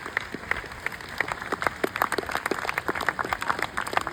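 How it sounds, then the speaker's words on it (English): Audience applause for a couple's golden wedding anniversary, a steady wash of many hands clapping at moderate distance in a hall, dense and even throughout without voices. "May we have a round of applause for their recent golden anniversary."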